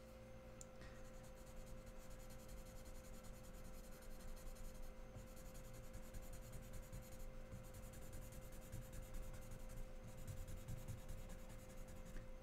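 Paper blending stump rubbing over pencil shading on paper, a steady soft scratchy rubbing that continues alone, close and quiet throughout.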